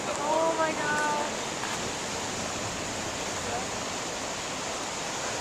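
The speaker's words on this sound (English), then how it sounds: "Waterfall falling on us." Broad, steady roar of rushing water as a waterfall begins flowing at Havasupai Falls in the Grand Canyon, constant and enveloping, with faint voices briefly over it at the start.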